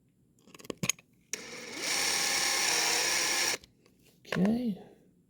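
A cordless drill drives screws to mount handles on a wooden writing desk, one loud, close whirring run lasting about two seconds, followed by a brief higher revving burst amid light handling clicks.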